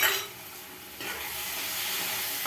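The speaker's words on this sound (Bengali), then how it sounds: "কাঁচা লঙ্কা এবার এর মধ্যে দিয়ে দেবো" Chopped green chillies are dropped into hot oil in a pan. A loud initial burst eases, then swells again at about one second into a steady, close sizzle.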